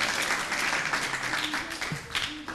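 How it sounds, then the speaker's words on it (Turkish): Applause from a school audience for students, a brief burst of steady clapping at moderate distance. "Alkışlarımız arkadaşlarımız için."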